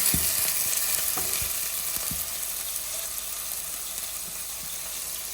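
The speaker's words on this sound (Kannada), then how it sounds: "ಸ್ವಲ್ಪ ಬೆಳ್ಳುಳ್ಳಿ. ಒಳ್ಳೆ ಫ್ರೈ ಆಗಬೇಕಿದೆ." Garlic frying in a pan over low flame, alongside green chilli and fresh ginger, gives a dense, steady sizzle close by, with a few faint taps near the start.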